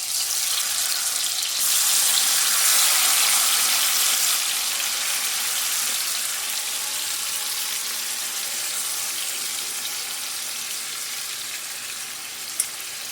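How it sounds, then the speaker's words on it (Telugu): Marinated chicken pieces fry in hot ghee for a chicken ghee roast, giving a loud, continuous broadband sizzle that stays steady throughout, close up, with no speech. "ఇది వాటర్ అంతా ఇంకిపోయి మొత్తం ముక్క అంతా కూడా ఆయిల్ వదిలేంత వరకు కూడా ఈ విధంగా దీన్ని ఫ్రై చేసుకోవాలన్నమాట"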